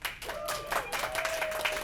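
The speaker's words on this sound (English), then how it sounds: "And by round of polite applause" Polite applause from the audience at a science-themed variety show, a brief, fairly faint patter of clapping hands.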